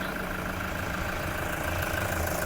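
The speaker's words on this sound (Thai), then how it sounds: "ตอนนี้สตาร์ทเครื่องยนต์อยู่นะคะ ฟังเสียงเครื่องยนต์ได้เลยค่ะ เครื่องดีเครื่องแน่น" A 2016 Toyota Commuter 3.0 diesel van idles with a steady, even rumble and a faint knocking texture, close and continuous with no voices.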